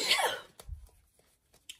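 One abrupt, breathy sneeze bursts out close to the mic, followed by a low exhale and a few small mouth noises.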